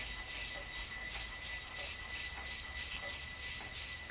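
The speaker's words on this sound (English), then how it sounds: "I'll barely push down on it. So the sandpaper isn't making big, deep grooves in it." Fine 600 grit sandpaper rubbed lightly by hand over a workpiece, giving a steady, soft, continuous scratchy hiss with faint repeating strokes, close up and alone with no talk.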